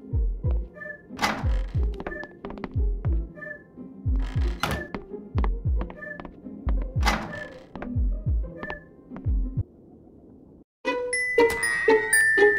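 Screens being smashed in the video game Mad Scientist, a series of heavy thunks and crashing impacts in a repeating rhythm, followed by a brief pause and a burst of bright electronic crackling and glitchy debris.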